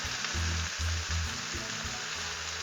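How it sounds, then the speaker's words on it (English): Steady, close sizzling of chicken frying on a hot Blackstone griddle, a dense continuous crackle with low rumbling underneath, uninterrupted throughout. "I love listening to something sizzle up on this Blackstone"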